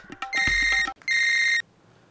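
A phone ringtone plays loudly and alone in two bright electronic bursts, the first just under a second long and the second shorter, followed by quiet.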